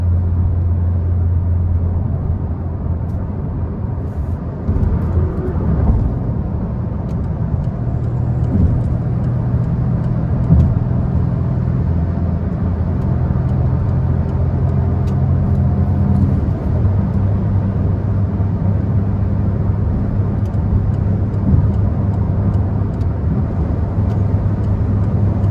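A 2024 Peugeot 208 Style 1.0 with a lone occupant cruises on an open road, its cabin filled with continuous low engine drone, tyre rumble and wind, steady and loud with small shifts in pitch.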